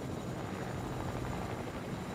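Helicopter flying in a video game, a steady close rotor drone with a constant broadband roar, loud and unbroken, no voices over it.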